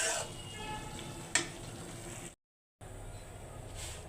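Sliced potatoes for aloo bhaji sizzle softly in a pan over a gas flame in a home kitchen, a steady quiet hiss broken by one brief clink and a short silent gap.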